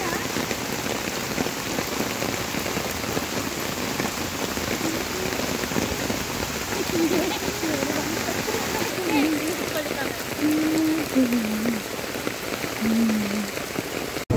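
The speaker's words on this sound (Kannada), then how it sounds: "ಇಲ್ಲಿ ಬಂದ ಕೂಡ್ಲೇನು ಸಿಕ್ಕಾಪಟ್ಟೆ ಮಳೆ ಬರ್ಲಿಕ್ಕೆ ಶುರು ಆಯ್ತು" Heavy rain pours at Manipal in Udupi as a loud, dense, continuous hiss, with a person talking under the downpour.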